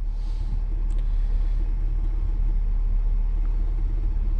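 A 2003 R-Vision 241 mini Class A motorhome on a Workhorse chassis rolls down the road, its cabin filled with a constant deep engine and road rumble, steady and loud, with no talking.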